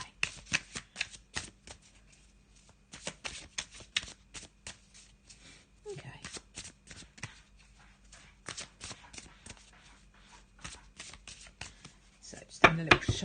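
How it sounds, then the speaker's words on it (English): Tarot card deck being shuffled, a long run of quick riffling and slapping card sounds in bursts with short pauses, close and fairly soft, with light talking now and then. "I'm just going to give you a bit of a shuffle"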